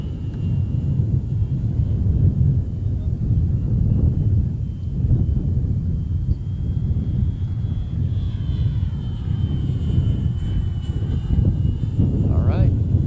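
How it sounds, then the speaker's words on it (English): Model airplane flying at the AIAA Design/Build/Fly competition, an outdoor engine drone with rumbling wind noise at steady loudness, a higher tone rising and falling as it passes, with voices talking over it. "Got to keep that plane up in the air for 5 minutes."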